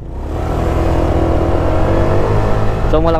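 A stock Honda Click V3 scooter engine revs and accelerates up close, loud and steady with a rising whine near the end.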